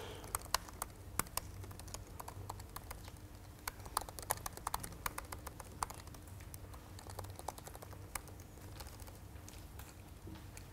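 Fast typing on a computer keyboard: continuous, close clicking keystrokes in irregular bursts over a quiet room hum, with no talking.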